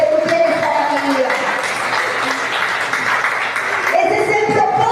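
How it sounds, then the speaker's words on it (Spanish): A church congregation stands and claps in sustained applause, a dense wash of hands with a voice speaking and music playing over it throughout. "Póngase sobre sus pies en esta mañana y denle un fuerte aplauso al Señor."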